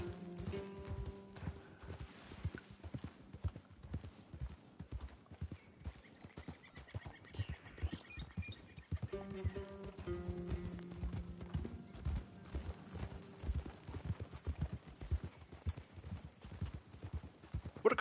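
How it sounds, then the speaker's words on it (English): Hooves of a horse in Red Dead Redemption 2 clip-clop in a steady walking rhythm as the mare follows along, with a brief whinny, soft game music and ambient tones beneath. "What a good horse. Look at her following along."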